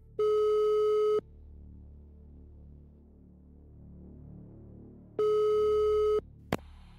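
A telephone busy or call tone sounds as two steady, one-second electronic beeps about four seconds apart over a quiet background hum, followed by a short sharp click.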